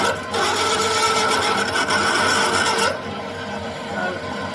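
Welding on custom motorcycle forward controls, a close, loud crackling buzz that runs steadily for about three seconds and then cuts off, leaving quieter workshop background noise.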